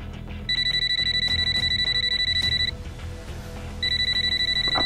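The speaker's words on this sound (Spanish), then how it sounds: "Apague ese teléfono, no nos va a dejar estar a gusto" A telephone rings with a bright electronic bell tone in two long bursts, with a brief pause between them. It sits over low background noise in an indoor scene, and nobody speaks.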